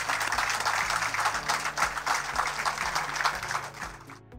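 A crowd applauds at a contract signing ceremony in Paramaribo, a dense, continuous wash of many hands clapping that holds steady over a faint low hum before tapering off at the end.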